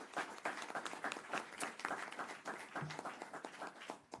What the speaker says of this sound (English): Can we give all the staff a round of applause?